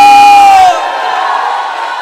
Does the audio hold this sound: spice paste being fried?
no